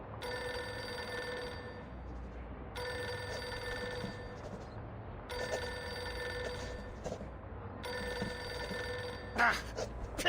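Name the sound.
telephone ringing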